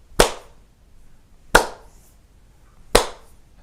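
Three sharp hand claps ring out, evenly spaced about a second and a half apart, each crisp and distinct with silence between them.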